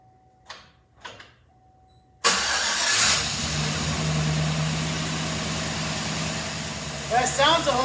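A replacement crate engine in a 2013 Chevrolet Silverado fires for the first time: two soft clicks, then the engine catches suddenly and settles into a loud, steady, even run.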